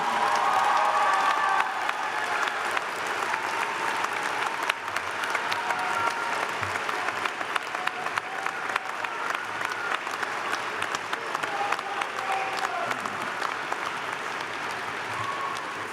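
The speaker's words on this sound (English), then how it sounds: "acknowledge your family, friends, and faculty with a round of applause for all of their support and encouragement to you" A large graduation commencement audience claps steadily for the whole stretch, a dense sustained wash of applause at a moderate distance with no voices above it.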